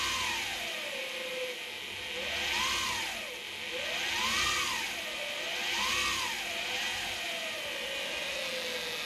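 A brushless motor drives a belt-driven BT30 spindle, a steady whirring drone with a tone that rises and falls in slow waves, alone without any talk.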